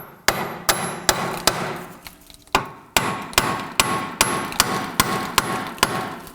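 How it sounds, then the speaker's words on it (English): A hammer strikes the rear wheel hub of a 2005-2009 Subaru Legacy again and again, each hit a sharp, loud metallic bang in a fairly even rhythm, about fourteen blows close up with no talk. "I'm going to go ahead and bonk on the wheel hub itself to try and get this whole unit to come off"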